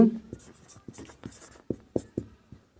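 Pen or pencil writing on paper during a Hindi-language Class 10 maths lesson on circles and semicircles, heard as a series of short scratchy strokes in an irregular rhythm, close and fairly quiet, after a brief bit of speech at the start.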